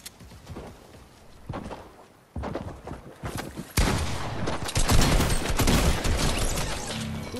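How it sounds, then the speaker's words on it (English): Gunfire in an online shooter, a few sharp cracks early on followed by a dense, loud burst of rapid shots and impacts filling the second half. "I'm getting sniped at"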